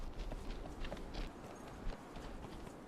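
Horse hooves clip-clop steadily in the video game Conan Exiles, a faint, even walking rhythm of soft hoof strikes under a constant background wash.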